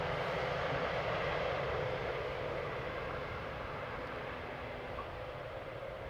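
Broad, steady engine roar of an airliner rolling out after landing at Amsterdam Schiphol, loud and continuous at first and easing slightly toward the end.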